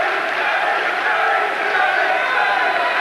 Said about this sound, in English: And the crowd delighted with Berry's hard punching performance